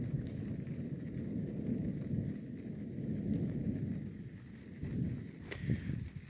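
Rain falls steadily during a storm while low thunder rumbles continuously underneath, heard from inside a car with a few louder rolling swells near the end.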